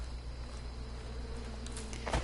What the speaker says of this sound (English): you hear the bees buzzing?